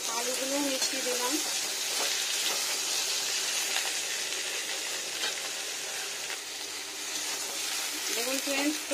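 Potatoes are stirred into a hot pan and fry with a constant loud sizzle and hiss, broken by stirring scrapes, while a voice is briefly heard near the start and end.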